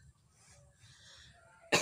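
A single sharp cough bursts out near the end, following a quiet stretch of faint background noise.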